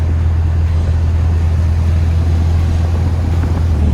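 A classic VW Beetle engine with a dirty carburetor runs rough, a loud steady low drone with an uneven, sputtering edge throughout and no voices.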